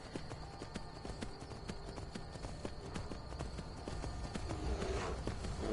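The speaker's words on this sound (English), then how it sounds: "I love the fact that wild horses, they can run so far." Horse hooves galloping in Skyrim, a quick rhythmic clip-clop of repeated hoof strikes with a faint ambient bed, steady and moderately quiet, growing slightly louder toward the end.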